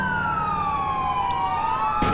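Police siren in the video game GTA IV, a loud wailing tone sweeping down and back up, followed by a brief burst of noise near the end.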